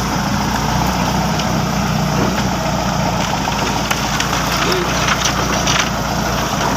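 A tractor engine idles steadily and continuously at moderate distance in the outdoors, a constant low rumble with no changes in pace, and no voices stand out over it.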